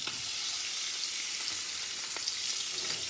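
A steak sizzles hard in a pan over high heat, giving a steady, dense hiss and crackle with small pops scattered throughout, close and unbroken, with no voices.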